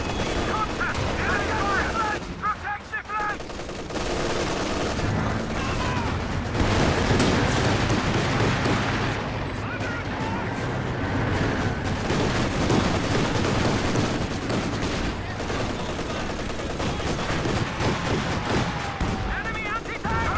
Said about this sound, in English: Taking infantry fire!